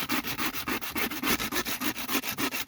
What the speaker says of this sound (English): I'm going to keep on rubbing until I get right down into that center part